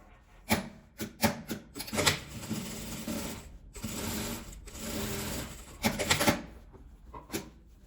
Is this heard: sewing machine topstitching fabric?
yes